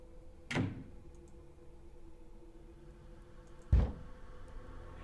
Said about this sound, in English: Twisting the knob, I pull it open halfway.